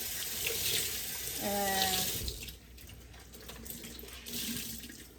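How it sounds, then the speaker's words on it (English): Tap water runs steadily into a sink while hands are washed under it during seafood casserole preparation in a home kitchen, close and continuous with a brief splashy change midway. "I need to wash my hands."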